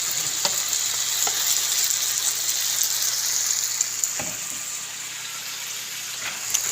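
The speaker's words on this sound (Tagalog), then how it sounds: "Magluluto ako na itlog. Dinay kamatis." Eggs with tomatoes fry in a pan with a continuous, close sizzle, broken by a few sharp clicks of stirring.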